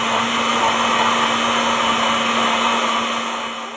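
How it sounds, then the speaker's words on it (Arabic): A steady electric blender motor whir runs loud and continuous, holding an even drone before easing off slightly at the end, while mixing cake batter. "خلاط"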